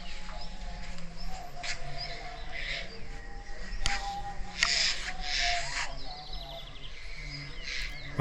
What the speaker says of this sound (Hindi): पंछियों की बहुत ही मधुर आवाज़ें आती हैं।